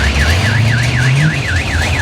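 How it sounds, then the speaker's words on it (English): A car alarm blares at an outdoor car show and swap meet, a loud cycling electronic siren rising and falling in a steady rhythm over a low engine and crowd rumble. "Oh, there goes the car alarm."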